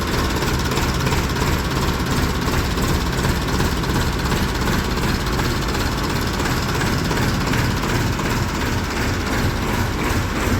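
Tractor engines run steadily, close and loud, a dense rumbling drone with no break across the whole stretch and no voices over it.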